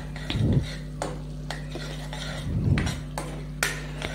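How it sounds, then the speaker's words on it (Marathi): Spice masala with salt is stirred in a pan, a low steady simmer underneath while a spoon scrapes and clinks against the metal in scattered strokes, with two heavier scraping bursts. "हे मीठ आपण यात घातलं की हे एकत्र करूया"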